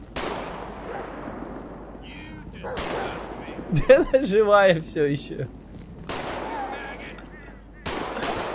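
Gunfire in the video game GTA 5 Redux, aimed at a dog: repeated loud, sharp bursts of shots spread across the clip, with someone talking over the shooting.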